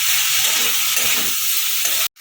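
Spring onions frying in a pan, a loud steady sizzle and hiss with soft stirring scrapes, close up, cutting off abruptly near the end.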